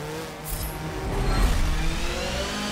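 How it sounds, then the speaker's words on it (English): A BMW touring race car in Forza Motorsport 7 accelerates with a rising engine note and a whining straight-cut gear tone, loud and close, with a brief swell around the middle. "The sound of straight cut gears sounds so cool. Legit race car."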